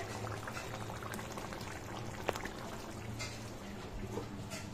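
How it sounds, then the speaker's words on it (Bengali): A pot of chitol fish shahi kalia simmering at a family get-together, a faint steady bubbling murmur with a low background hum, no clear voices. "ফুটছে।"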